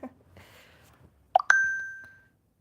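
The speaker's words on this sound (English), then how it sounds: "Can you guys hear my phone?" A soft phone alert rings out in a quiet room: a faint rustle, then two rapid bubbly blips and a sustained bell-like tone that slowly decays, with nobody speaking over it.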